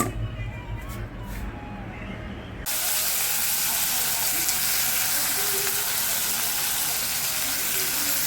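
Jackfruit seeds frying in a pan, a loud dense sizzle that bursts in abruptly after a brief quieter stretch with clinks, then holds steady and close to the end.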